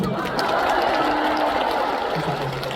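A large concert audience applauds at a show, a dense and steady wash of clapping throughout with faint murmurs and laughter mixed in.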